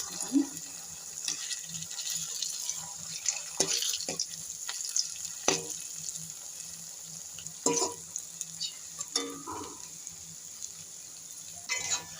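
Pumpkin fritters crackle and sizzle softly in hot oil, with scattered clicks and scrapes of a utensil throughout.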